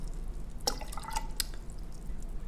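Well water is poured into a container of fermenting cucumber seeds, giving a few distinct drips and small splashes over a soft hiss, with no talk.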